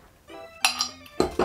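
Glasses of Yakult 1000 tapped together in a toast: a few bright, ringing clinks, the first softer and then two sharper taps close together, near and clear with no talking.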